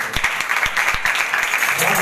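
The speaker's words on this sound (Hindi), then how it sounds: "बादशाह के लिए जोरदार ताली देंगे" A congregation at a Sukkot Feast of Tabernacles service breaks into loud applause, a full, fairly close wash of clapping with some distinct individual claps, as voices carry along underneath.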